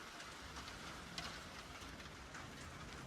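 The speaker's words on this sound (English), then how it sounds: "the rain is starting." Rain begins falling at an off-grid cabin high in the Colorado mountains, a steady, soft hiss of drops pattering on surfaces, continuous and fairly quiet with no voices.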